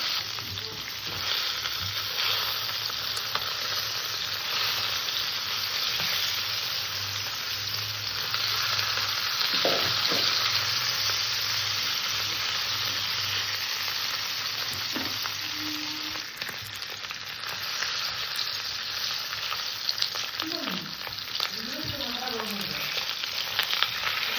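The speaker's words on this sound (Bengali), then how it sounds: "মাছ দুটো আমি সুন্দর করে ভেজে নেবো" Two swarnaputi fish frying in oil in a wok, a continuous close crackling sizzle with occasional stirring and scraping knocks and brief faint background sounds.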